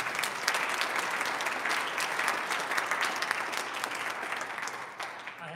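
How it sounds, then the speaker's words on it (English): Audience applause at a hall of fame induction ceremony, a steady dense wash of many hands clapping throughout, fairly close and even, tapering slightly at the end. "If we could have a round of applause for Todd Durantini"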